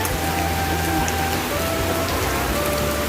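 Heavy rain pours steadily on an outdoor seaside promenade on a rainy morning, a dense, continuous hiss of drops striking the ground close by throughout, with no talk.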